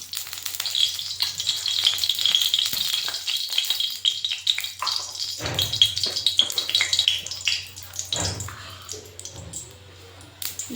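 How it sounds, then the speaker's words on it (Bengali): Mustard oil is poured into a hot wok on a gas stove and sizzles loudly, with crackling, spitting frying sounds and occasional stirring scrapes throughout. "কড়াই গরম হলে তাতে সর্ষের তেল দিয়ে নিচ্ছি"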